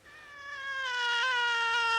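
A black cat meows in a long, rising then sustained wail, close and clear, growing louder over two seconds with no other sounds.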